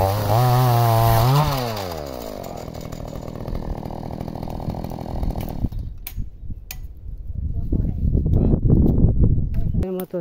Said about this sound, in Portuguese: motosserra, vai serrar mais uns tocos